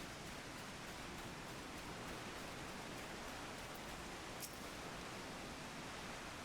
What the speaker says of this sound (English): The rain is so beautiful here.